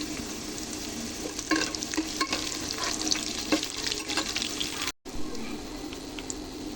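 Onions and a bay leaf frying in oil in a pan, a loud close sizzle with frequent stirring scrapes and clicks, broken by a brief cut of silence before the sizzle resumes, with no talking.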